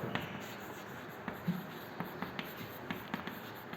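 Chalk or marker writing an element symbol on a classroom board, a series of short faint taps and scratches in a quiet room.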